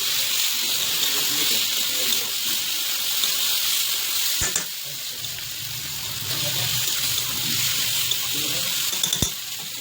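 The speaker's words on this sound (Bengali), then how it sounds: "তো এখন ভাবতেছি যে হালকা একটু জল দিয়ে দেবো" Water pours into a hot cooking pan of frying food, a close, continuous hissing sizzle and splash that swells and fades over a few seconds, with brief clinks of the bottle and pan.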